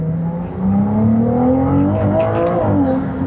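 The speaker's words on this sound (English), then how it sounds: "you can hear it, and we got some pops and crackles there too" A Ferrari 296 GTB Assetto Fiorano engine revs and pulls hard close by, rising in pitch, with a few sharp exhaust crackles popping over the roar.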